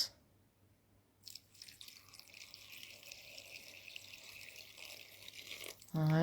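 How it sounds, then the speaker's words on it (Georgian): Water, 500 ml, pours steadily over washed pine cones and cornelian cherries for about five seconds after a quiet start, a continuous close splashing rush that ends with a brief louder clatter. "ამ ყველაფერს დავასხავ ახლა 500 მილილიტრი წყალს."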